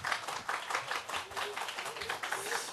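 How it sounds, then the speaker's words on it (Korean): Audience at a Korean youth camp orientation clapping to welcome a headquarters director, a moderate patter of claps in a room, steady across the short stretch with no voices over it. "우리 박성필 본부장 뜨거운 박수로 환영해 주시기 바랍니다"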